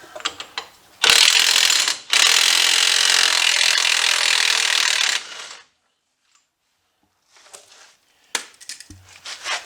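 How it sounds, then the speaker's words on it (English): A hand ratchet backs the nut off a ball joint on a 1993 Chevy pickup, with two long, loud bursts of steady clicking, then a pause and a few short, scattered ratchet turns. "I'm going to go ahead and take the nut and the washer back off of this right here"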